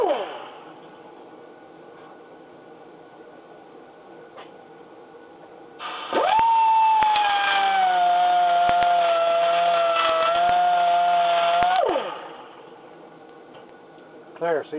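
A power grinder cuts a grease channel into an upper control arm, a whining, grinding burst lasting about six seconds in the middle, close and loud, with quieter moments before and after.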